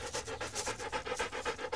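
A dog panting rapidly and close up, about a dozen quick rhythmic breaths in under two seconds, soft and airy with no talking.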